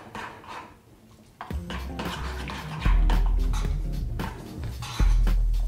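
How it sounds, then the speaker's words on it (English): Thick honey-based marinade for Korean BBQ chicken stirred in a bowl, close scraping and clinking of utensil against dish, with a few heavier knocks, and no voices. "just give it a good mix"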